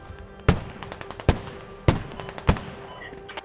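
Gunfire in the tactical shooter Squad, about six loud, sharp single shots at irregular intervals, each cracking close by with a short echoing tail over quiet background.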